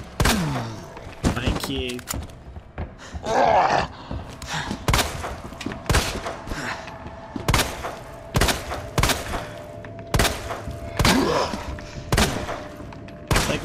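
Repeated gunshots from Resident Evil 2 Remake gameplay, a rapid run of sharp cracks with short gaps between bursts, fairly loud under intermittent talking.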